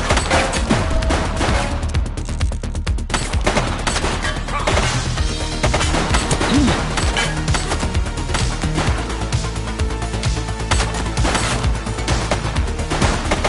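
Dense, continuous bursts of gunfire fill a police shootout in the video game The Precinct, with rapid overlapping shots and impacts under a busy, loud mix that never lets up.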